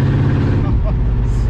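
Firebird car engine revving, a loud, close, dense low-pitched rumble sustained without break over a short stretch.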